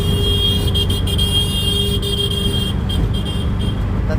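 Riding in an auto-rickshaw on a road: a loud, steady engine and traffic drone close by, with a few short horn toots sounding from passing vehicles.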